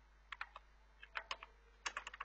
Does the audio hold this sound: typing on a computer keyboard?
yes